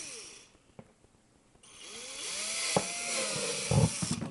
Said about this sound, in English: Just take your drill with your drill bit and just put the holes in.